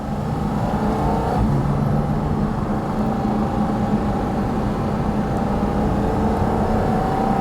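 A Porsche GT4 RS drives with its exhaust mode switched on, a steady loud engine drone heard from inside the cabin, with a slight shift in pitch near the start and no talking.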